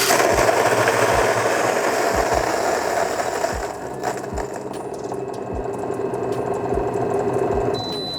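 A home filter coffee grinder grinds beans, a loud, steady, continuous whirring and crunching drone that runs unbroken and up close throughout, with a dense rough texture and no talking over it.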